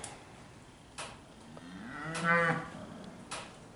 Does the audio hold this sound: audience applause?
no